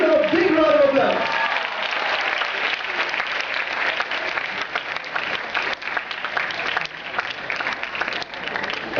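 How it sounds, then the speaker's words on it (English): Loud, sustained applause from a large audience at a young authors contest in 2008, steady clapping filling the room with a faint crowd murmur underneath. "Give them a big round of applause."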